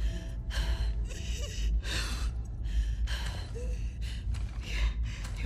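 Labored, gasping breaths from an injured character in The Last of Us Part 2, a series of close, ragged inhales and exhales repeating roughly every second over a low background rumble.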